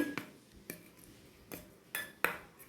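A spoon knocks against a bowl while raw poppy seed paste is mixed with mustard oil, giving a handful of sharp, light metallic clinks spaced apart over a quiet background.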